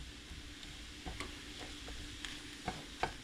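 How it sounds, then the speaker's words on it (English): Onions caramelizing in a pan, a quiet steady sizzle broken by light scrapes and taps as they are stirred around, close but faint with no talking. "we're just going to keep moving these around the pan and let them do their thing"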